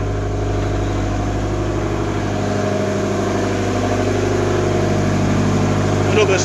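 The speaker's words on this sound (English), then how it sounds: "Back out into the main engine room." Main engine room of a former fisheries research vessel, SS Explorer, with machinery running: a loud, steady low mechanical drone and hum with a constant throb, unbroken throughout.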